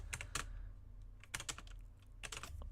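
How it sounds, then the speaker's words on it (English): Quiet computer keyboard typing in clusters of quick clicks with pauses between bursts, close and soft, during a programming session. "I like typing again"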